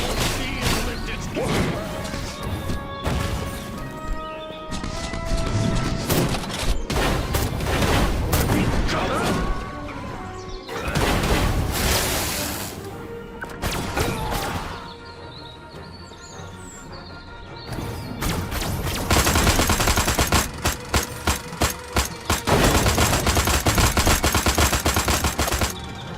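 Rapid bursts of gunfire in the Destroy All Humans! Remake video game, loud and dense, with a stretch of quick repeated shots near the end, all set against a busy game soundtrack and effects.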